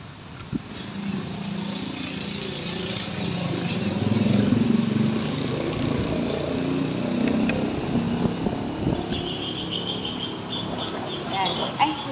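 A motorcycle being parked in town, its engine running steadily and close by with a rough, continuous rumble throughout, rising slightly in the middle before settling.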